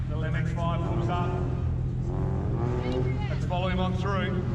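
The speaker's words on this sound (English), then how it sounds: "The MX-5 pulls up." A Mazda MX-5 in a racing video game drives past with a steady engine drone and shifting revving harmonics, loud and continuous, mixed with other car engines.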